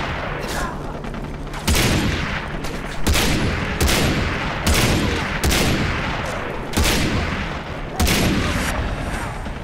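Several loud gunshots in Far Cry 3 ring out at irregular intervals, each a sharp crack followed by a ringing decay, with a continuous rumbling background between them.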